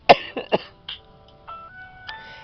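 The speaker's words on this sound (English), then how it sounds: "I'm so sorry I'm coughing." A sick woman gives a few close, harsh coughs and throat-clearing sounds in quick succession, followed by a faint tonal hum in the background.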